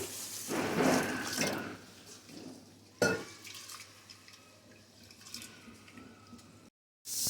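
Water splashes and pours steadily over washed finger millet for soaking, with a louder gush early on and a sharp clatter midway, then trickling before a brief silence.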